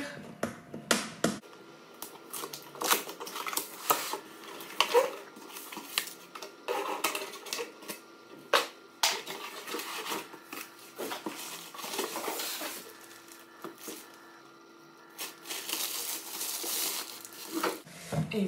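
A Faroro pet food dispenser for dogs and cats is unpacked from its box, with close crinkling, rustling, sharp clicks and the knocks of handled plastic parts in irregular bursts.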